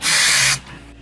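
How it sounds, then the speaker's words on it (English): Spray adhesive hisses from a can in one loud, steady burst of about half a second during a campervan build, then stops abruptly, leaving quiet room tone. "This spray is so good."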